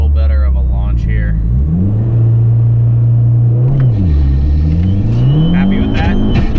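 Abarth car launching from 3,500 RPM on a drag run: a loud, close engine drone rises and falls through revs and shifts, with a voice speaking over it at times.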